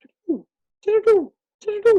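Three short hooting calls from a bird, the first soft and low, the next two fuller and two-part, separated by brief silences and heard close.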